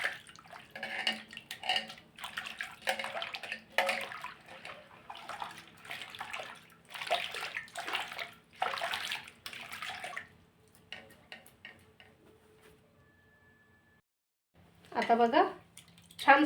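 Water splashes and swishes in bursts as sliced potato chips are rinsed in a vessel of water, with pauses between, ending in a final slosh.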